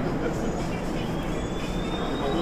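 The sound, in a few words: regular passenger train, not MRT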